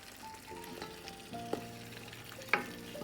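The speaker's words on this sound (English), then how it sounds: "you go in now and give it a little bit of a mix" A big pot of Guyanese fish curry with fresh fish is stirred, bubbling and sizzling underneath while a utensil knocks and scrapes the pot a few times, loudest near the end.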